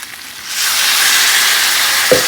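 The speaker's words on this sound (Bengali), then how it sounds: "এবার এর মধ্যে দিয়ে দেবো সামান্য জল" Water poured into a pan of sizzling soya chaap masala, a sudden loud hiss that swells and holds steady as the liquid hits the hot spiced gravy, with a small knock near the end.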